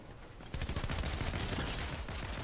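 Rapid pistol fire in a video game starts after a short pause and keeps going as a dense, continuous burst of loud shots to the end.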